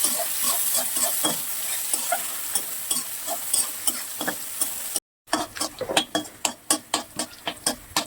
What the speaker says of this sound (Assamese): কাটি ৰখা সৰু সৰু পিঁয়াজ, কেঁচা জলকীয়া এইবোৰ ভালকৈ লাল হোৱালৈকে ভাজি লম